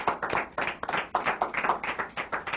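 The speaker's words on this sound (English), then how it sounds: "let's give John a warm hand of applause" A small audience gives John a warm round of applause, distinct rhythmic hand claps in quick bursts, fairly close and moderately loud, with no talking over it.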